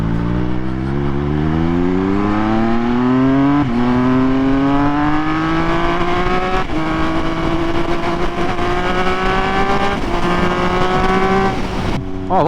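A Triumph Speed Triple 1200 RS motorcycle fitted with a Pro-Race GP-R3R exhaust pulls hard through the gears, its three-cylinder engine note climbing loud and close in repeated rising sweeps with brief shifts between them.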